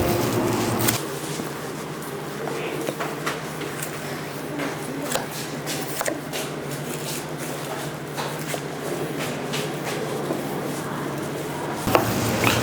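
A knife works through beef short rib at a butchery class, giving soft, irregular cutting and scraping sounds that carry steadily up close.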